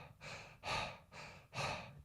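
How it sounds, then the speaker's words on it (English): Heavy mouth breathing and panting during a breathwork exercise: four loud, close breaths alternating in and out in a steady rhythm, with no talking. "The way you can do this is through mouth breathing, heavy mouth breathing, panting,"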